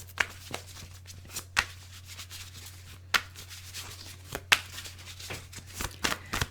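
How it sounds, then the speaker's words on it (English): Tarot cards being shuffled by hand during a card reading, with repeated crisp riffling bursts and soft rubbing between them, close and fairly quiet over a steady low hum. "So let's shuffle the cards and find out how you feel about each other."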